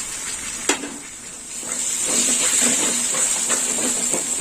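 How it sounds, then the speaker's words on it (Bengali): Tomato paste dropped into spice paste frying in oil for a prawn and pointed gourd curry. A soft, steady sizzle and hiss continue near the pan, with a few light stirring clicks. "এবার দিয়ে দেবো টমেটো বাটা, দিয়ে দিলাম।"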